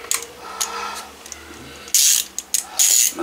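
Ratchet loosening a 10 mm nut on the V6 3.3 litre engine of a 2014 Kia Sorento, sparse faint clicks at first and then two loud, sustained bursts of ratcheting close to the mic.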